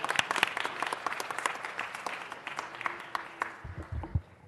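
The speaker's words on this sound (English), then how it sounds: "Let's give them another big round of applause." Sustained applause from an audience at a Friday city council meeting, a crisp crowd of clapping hands that gradually thins and softens, with a few low thumps near the end.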